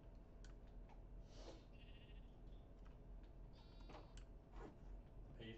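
Sheep bleat in a Minecraft game, several short bleats spaced across a few seconds over quiet game ambience and faint clicking, with no talking.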